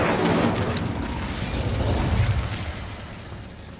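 An Incendio fire spell is cast in Hogwarts Legacy, a loud whooshing burst of flame with crackling that slowly fades over a few seconds.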